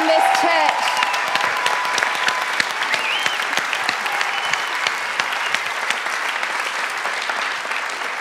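A church congregation at a Christmas service claps loudly and steadily, a dense, sustained round of applause with a faint voice over the start.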